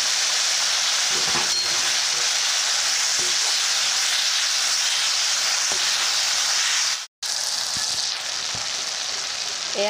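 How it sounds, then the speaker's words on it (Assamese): Chopped tomatoes fry in hot oil with red chilli powder and salt, giving a loud continuous sizzle close up that runs steadily for several seconds, broken once by a brief silence before resuming. "এতিয়া মই কাটি থোৱা বিলাহীখিনি ভাজি ল'ম।"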